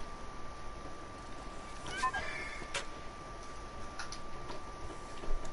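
A cat meows briefly in the video game Stray, a short soft call over quiet game ambience with faint ticking sounds.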